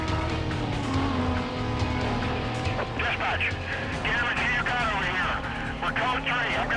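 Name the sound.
car driving in video game Need For Speed Most Wanted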